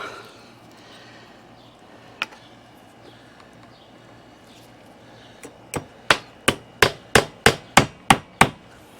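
A hammer drives an 8-penny nail into door brick molding: one isolated strike, then a run of about ten sharp, loud blows coming faster and close together.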